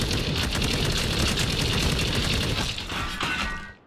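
Continuous machine gun fire rattles without a break in the World War II shooter World War Heroes 2, loud and dense, easing off slightly near the end.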